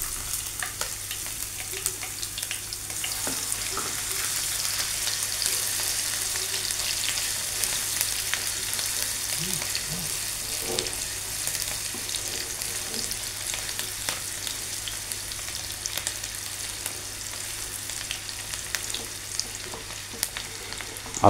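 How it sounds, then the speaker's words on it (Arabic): Steady, crackling sizzle of onion and garlic frying in hot oil, with occasional louder pops and stirring scrapes, continuing evenly throughout. "ننزل البصل والثوم"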